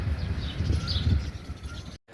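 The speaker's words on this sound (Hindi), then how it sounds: "आप सुन सकते हो कि कितनी सारी पंछियों की आवाज़ें आ रही है" Many birds chirping and calling outdoors in the morning, a dense mix of tweets and possible cooing under low rumbling background noise, continuous and moderately faint, cutting off abruptly near the end.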